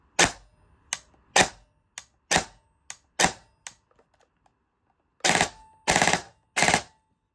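An airsoft FN SCAR rifle dry-firing without BBs loaded gives sharp, loud mechanical snaps, first as single shots, then a pause, then three longer rapid bursts, close and alone.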